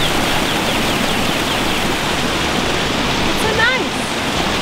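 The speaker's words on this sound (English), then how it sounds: "A little waterfall." Small waterfall by a walking path near a campground, a constant dense rush of falling water at close range, with a faint bird call briefly cutting through.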